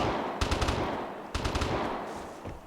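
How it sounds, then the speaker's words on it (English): Automatic gunfire in the shooter game Vigor: two quick bursts of rapid shots, fairly close, the second burst trailing off into echo, with a lone shot near the end. "whoever's firing like that, they're trying to kill somebody"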